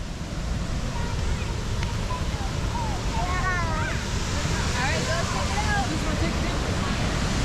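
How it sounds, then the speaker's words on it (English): A waterfall in Michigan's Upper Peninsula rushes with a continuous broad roar, while people talk nearby and wind buffets the microphone. "Not a bad waterfall."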